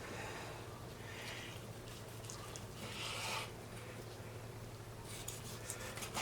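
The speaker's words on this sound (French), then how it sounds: "Donc nous allons découper notre première pluma." A knife slices through cooked, marinated Iberian pluma pork on a board, soft rasping and rubbing strokes in short bursts, faint and close over a low steady hum.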